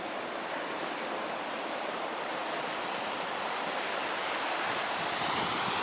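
Waves from a passing boat's wake on Loch Lomond, a steady rushing wash of water lapping and breaking close by, building slightly toward the end, mixed with wind noise.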